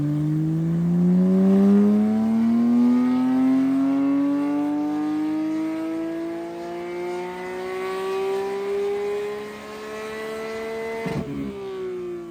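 A Porsche GT3 Manthey engine runs at full power, a loud sustained pull rising steadily in pitch for about eleven seconds before cutting off abruptly and falling back.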